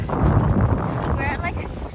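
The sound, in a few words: wind on Ben Nevis mountainside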